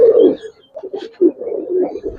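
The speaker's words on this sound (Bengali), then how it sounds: "আর ডাকের সাউন্ডও ভাই অন্য কবুতর থেকে আলাদা।" A Giribaz pigeon coos at a pigeon farm in a few low, throaty bursts with short pauses between them, close by and moderately loud, with no voices over it.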